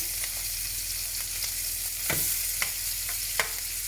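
Pork sizzles steadily in a hot pan while being basted with butter, a constant hiss of frying with occasional spoon scrapes and clinks against the pan, no voices.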